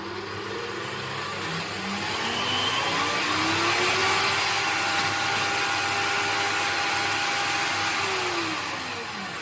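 A drill press for metal drilling runs steadily at set speed, a loud, close continuous mechanical whine with a humming tone that rises slightly and then eases, no talk over it.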